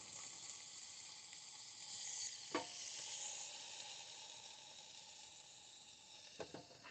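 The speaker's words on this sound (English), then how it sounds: "I just love the sizzle." Cinnamon-dusted apples sizzle on a hot mini griddle, a steady soft hiss running throughout with a couple of brief sharp clicks or taps near the start and end.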